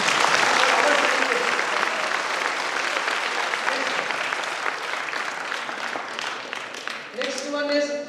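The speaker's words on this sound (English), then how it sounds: "One hand of applause, please." A crowd at a gathering applauds scientists for their work, with dense, sustained clapping that fades slightly toward the end as a voice or tone begins.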